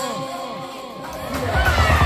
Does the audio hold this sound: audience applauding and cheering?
yes